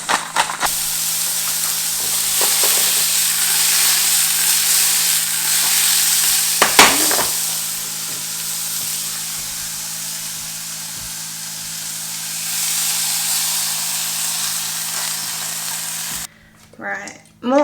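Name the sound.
mushrooms frying in oil in a pan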